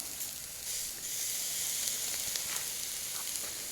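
Steak sizzling on a cheap Walmart grill in rain and darkness, a steady close hiss with faint crackles running throughout.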